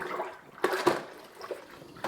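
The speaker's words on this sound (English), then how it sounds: "go ahead and grab the mop, dip it inside the water here" An O-Cedar EasyWring spin mop is dipped into a bucket of water mixed with Lysol Power Clean, giving a couple of soft, quiet sloshes and splashes with faint drips between.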